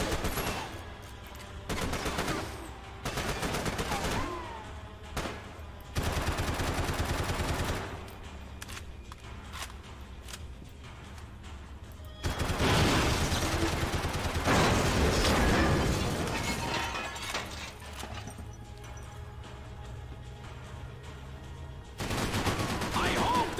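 Gunfire rattles through a firefight in Max Payne 3, with bursts of automatic shots and single blasts in uneven clusters, some loud and close, mixed with the game's background sound and occasional voices.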